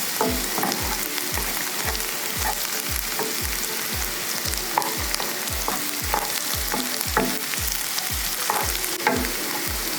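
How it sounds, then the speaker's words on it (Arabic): Chopped onions frying in vegetable oil in a pan, a steady loud sizzle with rapid crackling pops and a regular rhythmic scraping as they are stirred, with no voices. "فرمتهم بهذا الشكل قطع صغيرة وحطيت معهم زيت نباتي. وهلأ بدي اقليهم لحتى تحمر عندي البصلة"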